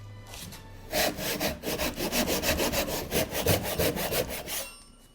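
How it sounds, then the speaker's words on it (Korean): Chisel and hammer shaping alder wood into a Hahoe mask, with rapid rhythmic scraping and shaving strokes, about a dozen in close succession, loud and near, with no talk. "끌과 망치를 이용해 형태를 만드는 작업이 한창인데"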